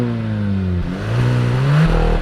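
A 2022 Hyundai Kona N Line with twin exhaust tips revs from a steady idle, the engine note rising in two loud, close blips with a rough, throaty exhaust tone and no talking.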